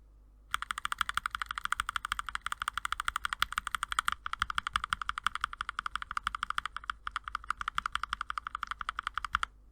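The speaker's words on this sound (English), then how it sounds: "there is a slight difference between a hand lube switch and the factory lube switches that came with this board" Steady typing on a Kemove K68 Angel 65% mechanical keyboard with factory-lubed switches, close and clear, a fast run of keystrokes with a couple of brief pauses and no voices.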